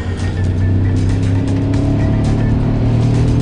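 A steady, deep car engine drone holds throughout, with a rough rumbling tone and slight rises in pitch as it revs.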